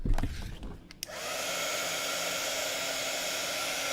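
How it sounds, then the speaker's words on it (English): Heat tool blowing hot air to speed-dry ink on a handmade card: a few handling knocks and clicks, then the tool switches on and holds a steady, loud whooshing whir to the end, with no talk. "we're going to just kind of speed dry this"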